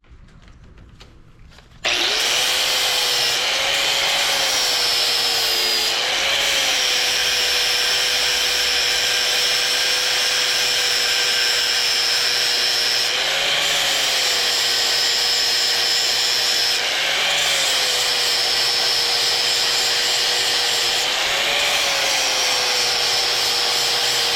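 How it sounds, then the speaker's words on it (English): A power grinder cuts into the metal mounting areas of a custom motorcycle casket-style gas tank build, a loud continuous whine starting abruptly after a short quiet lead-in and holding steady with slight pitch dips as the load changes. "we're gonna grind off these two areas"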